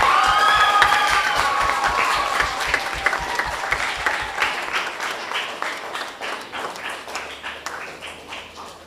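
Audience at a primary schools Kweyol spelling bee applauds a placed student at the awards, dense sustained clapping with a few cheers and whistles early on, gradually thinning toward the end.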